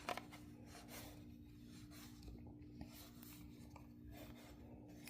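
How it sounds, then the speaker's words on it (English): Faint, close rubbing and rasping as a finger or tool works over the ribbed side of a model railroad car, a soft continuous scratchy texture with a few light taps. "I'm just rubbing the ribs here."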